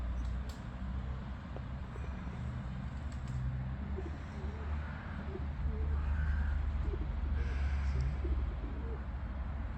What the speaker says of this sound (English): One or two pigeons